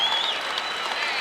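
A wrestling crowd at a college dual meet between Iowa and Iowa State applauds steadily, a dense wash of clapping that stays loud and unbroken throughout the brief moment.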